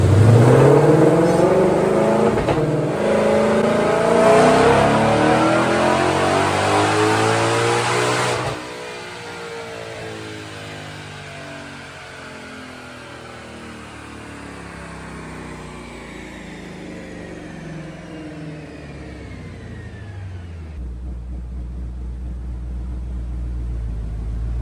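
A stock 2020 Shelby GT500 engine revs hard and loud on a dyno for several seconds, pitch sweeping up, then drops to a steady rumbling idle that lingers to the end.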